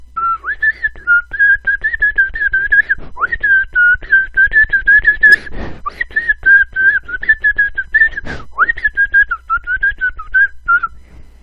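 Someone whistles the bouncy Disney steamboat tune continuously up close, loud and clear, with a few clicks and bumps in the background.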